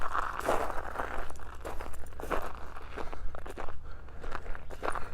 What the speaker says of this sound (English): That's the crunching of the shells on my feet.